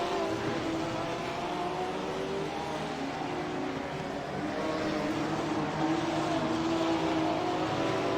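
Porsche GT3 race car driving at Zolder circuit, a sustained engine roar that holds steadily throughout and swells slightly toward the end, heard from a distance with no talk.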